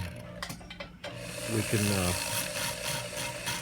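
A rotary power tool fitted with a grinding stone cuts rust off a relic Colt Single Action revolver. It gives a steady mechanical whine and grinding rasp that swells near the middle, with a brief voice at the start.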